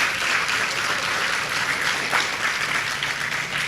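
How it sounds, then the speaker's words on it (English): Steady, dense applause from a large audience at a faith gathering, loud and sustained for the whole stretch with no pause or voices over it. "Let's give another thank you again, another applause"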